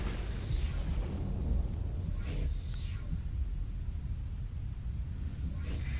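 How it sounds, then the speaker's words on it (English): Missile volleys and explosions in the Starsector space combat game, a muffled rumbling bed with a few faint bursts and hisses, low and distant in the mix. "let's just keep volleying missiles at them"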